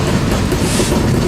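A freight train passes at CB Thenard in Fullerton, a loud, close, continuous rumble and roar of rolling railcars with no talk.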